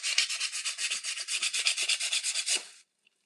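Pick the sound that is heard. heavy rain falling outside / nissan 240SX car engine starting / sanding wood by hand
sanding wood by hand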